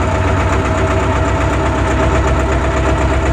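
A tractor engine runs steadily while cutting tramlines across a field for direct-seeded sweet corn, a loud continuous mid-pitched drone with a knocking diesel rumble and no pauses.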